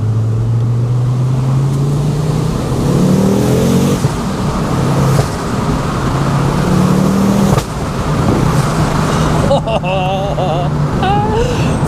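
The exhaust of a Mk2 Ford Focus RS while driving on a sheltered road: a steady engine drone that rises through gears, with brief swells and a busier, whistling stretch near the end.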